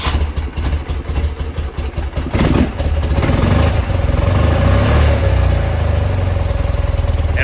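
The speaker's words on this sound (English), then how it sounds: "Got it to start, crank over using the jump pack." A motorcycle engine cranks over on a jump pack with a fast rhythmic churning, catches after about three seconds and settles into a loud, steady idle up close.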